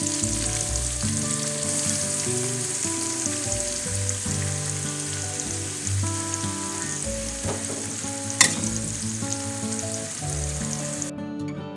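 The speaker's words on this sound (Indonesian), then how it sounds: "Tumis sayur bayam dengan jamur." Spinach and enoki mushrooms stir-fry with a steady, loud sizzle across the whole stretch, with one sharp clatter near the end and music-like tones running underneath.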